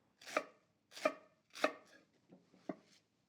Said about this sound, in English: We're just cut them into 1/2 inch wide strips right across the top.